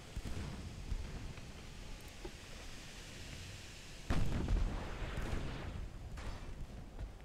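Heavy naval gun salvo from a warship in the naval combat game Ultimate Admiral: Dreadnoughts: a sudden loud boom bursts in around four seconds over a steady rumbling battle background, with lighter blasts and crackle trailing after it.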